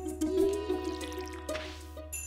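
Watering plants in the Stardew Valley video game gives a few soft, short liquid pours and drips, fairly quiet and alone, with a faint steady background tone.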